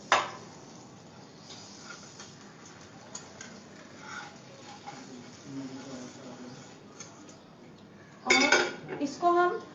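Soft scraping and clinking of a utensil against a plate, mostly quiet, ending in a louder cluster of metallic clinks.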